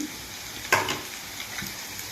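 Onion paste for a fish curry frying in a pan, a faint even sizzle with one sharper scrape of a spoon and a few softer stirring touches, close with no talk.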